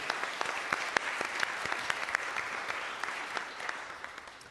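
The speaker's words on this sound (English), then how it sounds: "You all deserve a round of applause." Steady applause from an audience at a Board of Supervisors meeting fills the room, dense clapping with a few sharp individual claps standing out, fairly close and even.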